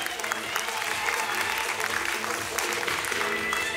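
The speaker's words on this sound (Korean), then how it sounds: "다시 한번 두 분에게 큰 박수 부탁드리겠습니다." Crowd applause for two dancers after a freestyle dance battle quarter final, dense continuous clapping from a large audience with some cheering and voices mixed in, steady and lively.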